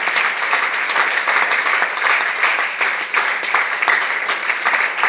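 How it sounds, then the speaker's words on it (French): A church congregation gives a long, dense burst of applause, many hands clapping together at full, steady loudness throughout with no break. "Peux-tu donner une acclamation forte au roi de roi?"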